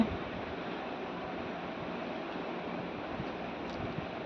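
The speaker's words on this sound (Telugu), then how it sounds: "నీళ్ళు అయితే పారుతూ ఉంది" Steady, broadband rushing of irrigation water flowing through a farm field, continuous and even throughout with no voices.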